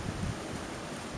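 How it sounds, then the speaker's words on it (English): Strong wind blowing outdoors near a pier on Jekyll Island as a storm comes in, a steady broadband rush buffeting the microphone with low gusty rumble, continuous and loud, with no talking. "you can hear the wind blowing behind me there"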